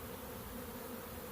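A honeybee swarm that has just been shaken buzzes intensely, a dense, steady drone of countless wings close by and filling the space with no break.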